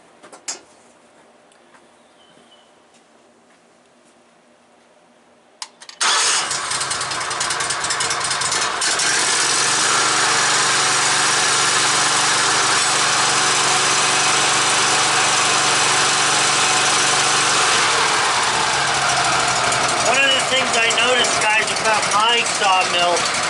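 A Woodmizer LT15 sawmill with a Kohler motor cutting boards from a log; after a few quiet seconds the engine kicks in loudly and holds a steady, heavy drone with a grinding cutting note, a voice talking underneath.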